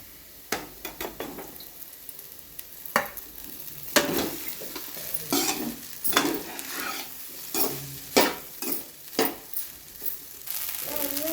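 Cooked rice being stirred into fried carrots in a pan at home, a spoon scraping and knocking in irregular strokes over a faint, steady sizzle, close and fairly quiet with no voices.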